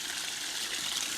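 Cold spring water running in a steady, close hiss and gurgle, a continuous bright rush with no pauses or voices.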